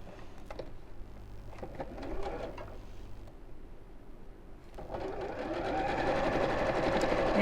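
A sewing machine stitches pieces of a half hexagon cushion cover together, running in short stop-start bursts of rapid clatter, close and fairly quiet, with faint handling noises between runs.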